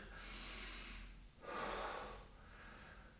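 Yoga breathing during a home session: a slow, close inhale and then a longer, audible exhale through the nose and mouth, with airy rushing and no talk.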